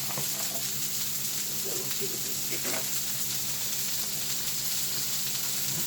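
Shrimp frying in oil in a quickly heating pan, a constant fine hiss and sizzle with a few soft clinks, even in level and running without pause.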